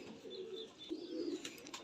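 Soft, low pigeon cooing repeats in short rolling phrases, fairly close, with faint chirps and background noise around it.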